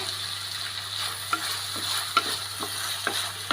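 Beef mappas frying in a pan as a handful of green chilies go in, a steady broadband sizzle with a few sharp clinks and scrapes of stirring, close and alone without voices.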